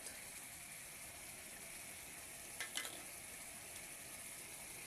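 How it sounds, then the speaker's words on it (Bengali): Ground spices and turmeric fry in oil with softened, melted tomatoes, a faint, steady sizzle and hiss broken by one brief scrape of stirring midway. "জিরে দিয়ে মশলাগুলো দিয়ে বন্ধুরা এই যে আমি এবার কষতে থাকবো যতক্ষণ না তেল ছাড়ে"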